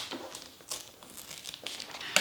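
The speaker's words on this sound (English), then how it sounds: "score it with my nails and then rip it" Paper page in a bullet journal torn gently by hand along a nail-scored fold, giving soft crinkling rips in short bursts with a sharper tear at the end, close and quiet, no talking.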